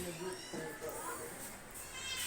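Hungry kittens give a few thin meows close by while someone speaks over them, the cries weaving briefly through her talk.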